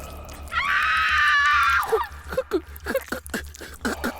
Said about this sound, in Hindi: उस शख्स का भयानक रूप देखकर निधि के हलक से चीख निकल गई।